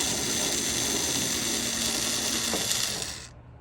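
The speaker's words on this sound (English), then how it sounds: "So you're going to take all of these nuts out." A ratchet fitted with an 11 mm deep well socket removes nuts on a 2013 Ford Edge backup camera mount, giving a loud, steady, continuous clicking whir close up that stops abruptly near the end.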